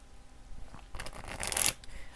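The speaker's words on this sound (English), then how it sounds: "I'm just shuffling some cards here to get more clarity for us." Playing cards shuffled by hand in a quiet room, a soft riffling flutter that builds over about a second into a brisk burst of crisp paper rustle before settling into faint handling.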